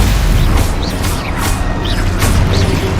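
Repeated Confringo spell explosions from Hogwarts Legacy go off in quick succession, loud bursting booms spaced roughly every half second over continuous battle din.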